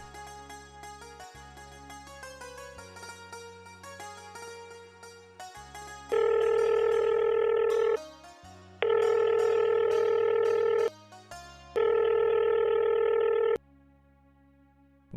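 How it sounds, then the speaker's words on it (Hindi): A phone call is placed: a quiet series of dialing tones, then three long, loud ringback tones with short gaps between them, over faint background music. "फोन करके ही देख लूं।"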